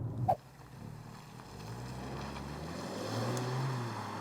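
A Chery Omoda 5 GT car drives along with a low, steady engine and road rumble that swells slightly toward the end, after a brief sharp knock near the start; no voices.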